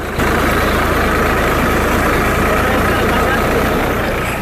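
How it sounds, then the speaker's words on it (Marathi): A tractor engine runs steadily nearby on a rough road to a flooded village by the Godavari, a constant low rumble that starts abruptly and continues under a voice talking. "ह्यांना ने आण करण्यासाठी या ट्रॅक्टरचा वापर केला जातो"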